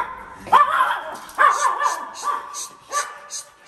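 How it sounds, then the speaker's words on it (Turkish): Several dogs indoors in a house give loud, close barks and yips, about four sharp bursts with short whining tails between them. "Evin her yeri köpek oldu."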